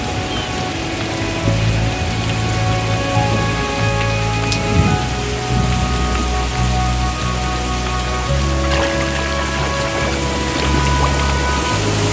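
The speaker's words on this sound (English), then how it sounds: "Five millimeters of rain falls every day for weeks on end." Heavy seasonal rain pours steadily on the African lion savanna, a dense hiss of drops on surfaces, with faint low rumbles underneath and no voices.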